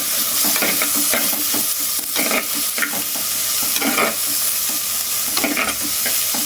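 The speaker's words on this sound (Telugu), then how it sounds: "మంచిగా పండు వేయించుకోవాలన్నమాట పచ్చిమిరపకాయలు" Green chillies fry steadily in an oil-filled pan for a veldt grape (nalleru) chutney, with a continuous loud sizzle and repeated scraping stirs close by and no talking.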